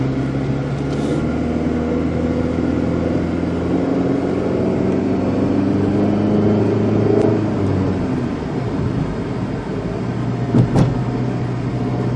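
Chrysler PT Cruiser engine running loud and close from inside the car on a test drive, a steady drone that rises and falls as it revs, with a brief click near the end.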